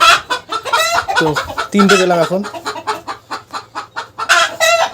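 Hens clucking in a poultry farm shed, with bursts of clucking and a few louder calls rising through the clip, mixed with a person talking nearby.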